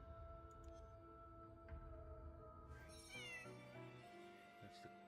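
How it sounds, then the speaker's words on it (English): A cat meows twice close to the microphone, one short cry and a longer rising one, during a game livestream with steady electronic background tones and some talking. "That's the cat."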